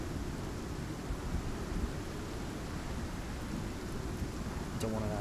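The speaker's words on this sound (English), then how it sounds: "The storm's just about over." Steady rain and wind roar through a thunderstorm in the survival game Icarus, a dense continuous wash with low rumbling, close and even throughout, ending in a brief crackle near the end.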